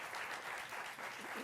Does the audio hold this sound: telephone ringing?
no